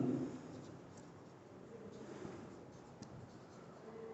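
Chalk scratches and taps faintly across a board during a maths lecture on Riemann integration, soft and intermittent in a quiet room.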